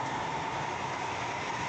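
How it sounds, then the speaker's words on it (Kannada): Inside a moving metro train in Singapore, a steady low rumble and rolling hum with a faint high whine run evenly throughout, with no talking. "ನಾವು ಇವಾಗ ಮೆಟ್ರೋ ಹತ್ಕೊಂಡು ಹೋಗ್ತಾ ಇದ್ದೀವಿ"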